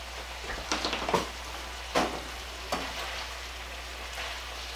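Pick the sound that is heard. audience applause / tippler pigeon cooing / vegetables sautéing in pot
vegetables sautéing in pot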